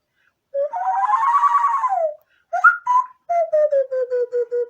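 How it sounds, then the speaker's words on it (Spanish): An indigenous Latin American nasal whistle, blown through the nose, sounds a sustained warbling tone that rises and falls, then a short pause and a series of quick descending pulsed notes, clear and close. "No es un silbato que yo lo manipule con mi boca, sino que es el silbato nasal."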